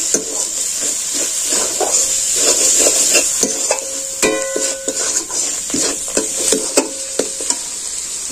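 Spiced ghugni of boiled peas and potato with salt and coriander leaves, stirred in a hot pan: steady sizzling hiss with repeated scraping strokes of a spoon, close and fairly loud, no talk.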